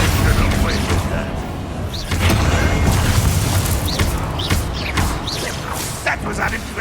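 Confringo spell blasts fire during a Hogwarts Legacy duel, a steady stream of booming bursts and thuds under a raised voice shouting spell names.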